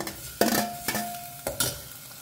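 Onions frying in a pan, a continuous close sizzle broken by several clattering knocks of a utensil stirring against the pan, no voices.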